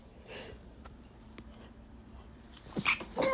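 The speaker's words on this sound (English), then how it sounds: "Ooh, excuse me, I'm about to sneeze." A single sharp sneeze bursts out near the end after a quiet stretch with faint breathing and low background hum.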